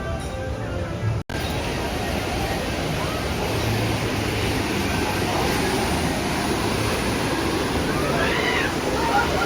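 On the Roaring Rapids water ride at Six Flags Great America, the slow lift gives off a steady mechanical rumble and rushing water noise, continuous and fairly loud throughout.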